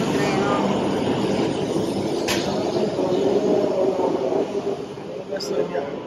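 A Shinkansen bullet train passing through a Japanese station makes a loud, steady rushing roar that fills the whole stretch, with voices murmuring faintly underneath.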